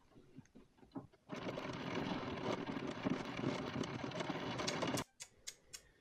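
An embroidery machine runs a fast, steady stitching buzz for about four seconds while sewing an outline on fabric, with quieter clicks and taps before it starts and after it stops.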